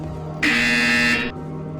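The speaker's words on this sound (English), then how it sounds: "You will hear a buzzer." A loud, steady electronic buzzer in the VR game Portal Stories drones for about a second over a low background hum, then cuts off abruptly.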